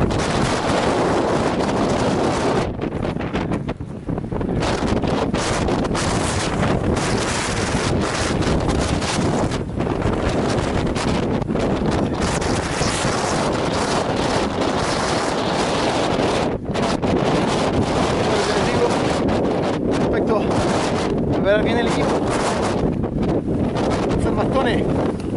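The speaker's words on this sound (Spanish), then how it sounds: "Está muy fuerte el viento" Strong Patagonian wind at Torres del Paine, roaring and buffeting a camera microphone without a break, with loud gusts and rumbling low-end turbulence from start to finish.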